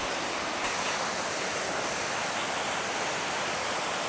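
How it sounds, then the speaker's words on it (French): A small waterfall on a hiking trail in Bulgaria pours in a steady, dense hiss of falling water, close and unbroken for the whole stretch. "Une première petite cascade ici."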